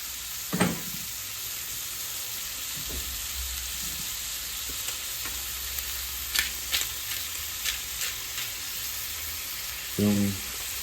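A beef patty being seasoned for bacon cheeseburgers, frying in a pan with a steady, close sizzle and hiss throughout, broken by a few soft scraping and clinking touches of a utensil.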